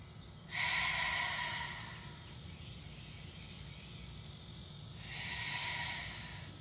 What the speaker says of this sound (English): breathing in through your nose, out through your mouth like ocean waves crashing